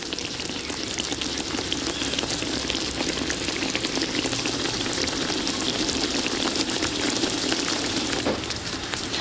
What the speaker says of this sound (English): Bring to a simmer and allow it to bubble for 5 minutes